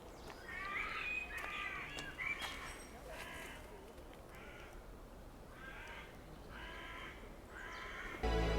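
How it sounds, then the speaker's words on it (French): Crows caw repeatedly in short harsh bursts at moderate distance, set against steady outdoor ambience in a town in Luxembourg, with a louder rumble at the very end. "Et les corbeaux aussi."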